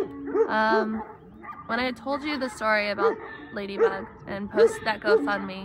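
Dogs bark and yip intermittently in short bursts at a farm where a rescue horse is kept, with someone talking continuously over them as she walks.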